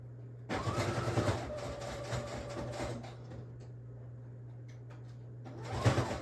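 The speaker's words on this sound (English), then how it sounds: "I'm gonna go back to the sewing machine and stitch this on." A sewing machine runs in a few short bursts of rapid mechanical stitching over a steady low hum, with pauses between runs.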